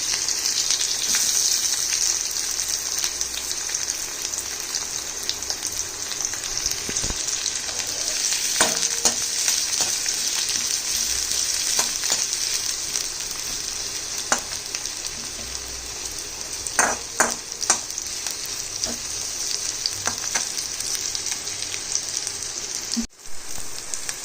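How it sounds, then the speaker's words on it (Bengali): Onion pieces frying in a pan give a steady, close sizzle with occasional sharper crackles and pops scattered through, continuous throughout with no talking. "পেঁয়াজটা ভাজা চলছে।"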